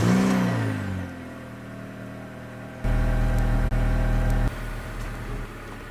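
Honda Civic engine on a road test, a steady mid-pitched drone that steps up sharply in loudness around the middle as the car accelerates, then eases back to a lower, even hum.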